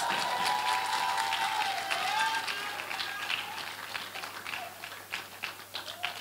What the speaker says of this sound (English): Let us give them another round of applause.